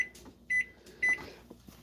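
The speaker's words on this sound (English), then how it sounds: "You get ready for the old microwave timer." A kitchen microwave oven timer sounds two short, sharp electronic beeps about half a second apart, with faint kitchen clatter in between.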